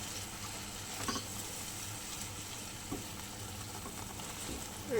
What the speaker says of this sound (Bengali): আমি কড়াতে তেল দিয়ে মশলাটা বেশ ভালো করে কষিয়ে নেব